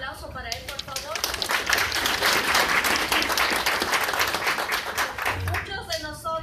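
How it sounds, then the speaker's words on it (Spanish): Audience applause greeting a guest speaker at an indoor event, a dense wash of clapping that swells quickly, holds steady, then fades, with some talk over the start and end. "Un aplauso para él, por favor."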